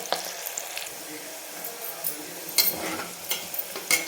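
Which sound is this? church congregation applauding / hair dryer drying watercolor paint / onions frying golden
onions frying golden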